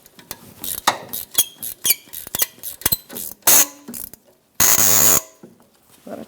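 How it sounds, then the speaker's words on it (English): Ratchet tightening an AC bolt on a 2015-2024 Jeep Renegade during oil pan replacement, giving a series of close, loud, irregular metallic clicks and squeaks, then one sustained harsh burst near the end. "Now let's tighten up this AC bolt the rest of the way."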